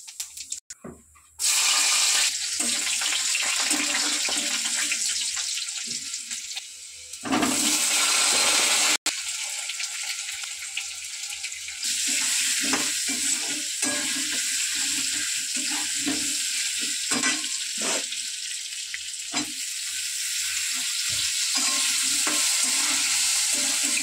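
Loud, continuous sizzling and crackling of cumin seeds frying in hot oil, with brief stirring scrapes and no voices.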